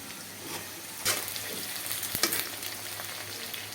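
Chopped onion and green chillies hit hot oil in a pan, a close, bright sizzle with a few sharp clinks and stirring sounds over a few seconds, no voices.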